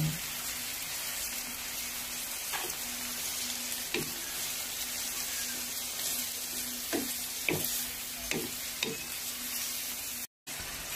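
Food stir-frying in a pan seasoned with salt, pepper and soy sauce, a quiet steady sizzle broken by several sharp scrapes and clinks of a utensil against the pan.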